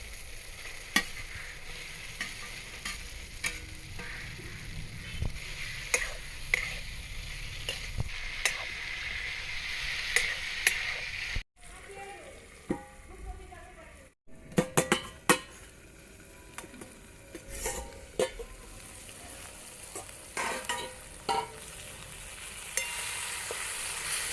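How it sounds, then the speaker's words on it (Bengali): Cauliflower and potatoes are stir-fried in a spice paste, with a constant close sizzle under frequent spatula scrapes and clinks against the pan and a brief pause partway through. "ফুলকপি আলুটা ভালো করে কষিয়ে নিয়েছি প্রায় সিদ্ধও হয়ে গেছে"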